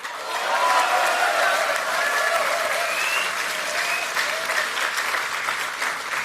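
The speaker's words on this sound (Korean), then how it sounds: "대한민국의 운명을 바꿀 여러분의 위대한 결단에 더욱 큰 박수 한번 보내드립시다" A crowd gives sustained, loud applause at the 2020 launch event of a political party. The dense clapping continues steadily throughout, with faint crowd noise and no voices on top.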